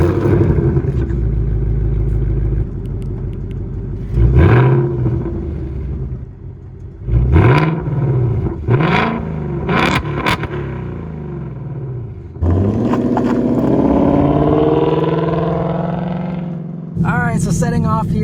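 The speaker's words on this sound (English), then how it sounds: "But listen to this awesome exhaust." Exhaust of a 2024 Ford Mustang GT with Performance Pack revving in several sharp, loud bursts over a steady idle rumble, then a sustained roar as the car pulls away.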